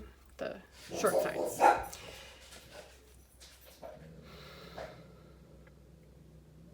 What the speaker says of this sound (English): We have been receiving packages, and she likes to bark at the delivery drivers